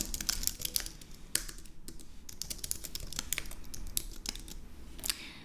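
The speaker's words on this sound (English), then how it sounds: "You'll see as I start typing in questions" Rapid typing on a computer keyboard: close, crisp key clicks in uneven bursts with short pauses, no voices.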